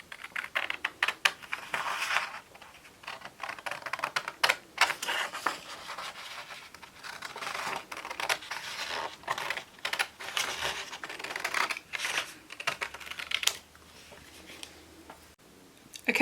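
Scissors snip out shapes from white card, a children's Father's Day craft. The cuts come as a steady run of light, close crisp clicks and rasps that continue throughout at a modest level.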